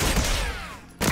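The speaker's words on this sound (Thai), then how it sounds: "ไม่เหมือนยิงปืนแบบปืนอ่ะเหมือนยิงเป็นแบบกระสุนเลเซอร์นะฮะ" Rapid laser-like gunfire from a weapon skin in the Warzone video game, a dense, loud burst of shots that thins briefly with a falling whine before the firing resumes, close and unbroken.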